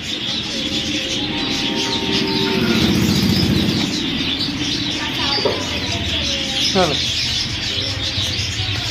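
Australian pet birds in a bird shop, a busy mix of chirps, tweets and whistles from several birds close by, with people talking over the chatter.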